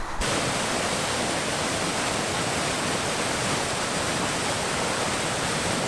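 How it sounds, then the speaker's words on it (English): Water pours steadily into a canal lock on the Stourbridge canal through opened top paddles, a loud, dense, unbroken roar filling the space close by. "Just going to let the water in from the pound behind where the boat is"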